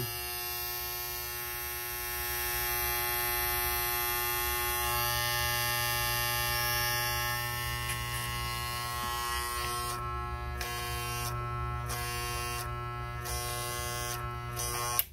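A close corded Magic Clip electric hair clipper, freshly cleaned, adjusted and lubricated, buzzes steadily with a constant hum, a few brief dips in its high whine near the end.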